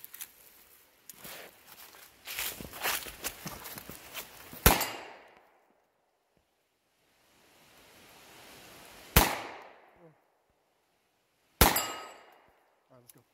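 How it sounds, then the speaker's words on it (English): Three sharp shots from a Stribog SP9A1 9mm pistol ring off a steel plate at an outdoor range, each crack spaced seconds apart with a metallic ring, following a stretch of shuffling and handling noise. "So we'll start here, put a couple of shots on the steel plate."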